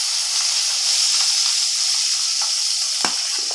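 Dried chillies, garlic and ginger fry in hot oil for a tomato chutney, giving a steady, close, loud sizzle and hiss throughout, with a few faint stirring clinks and no talking.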